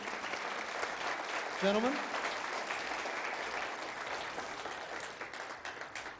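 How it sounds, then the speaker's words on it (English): An audience applauds at the 2015 Newfoundland provincial leadership debate in St. John's, a sustained wash of clapping from a crowd that continues throughout, with a brief spoken word near the start. "I think a round of applause is perhaps in order there."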